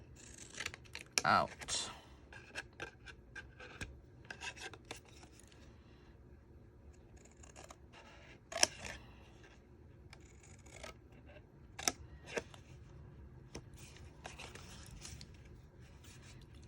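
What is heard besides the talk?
scissors cutting cardstock along score line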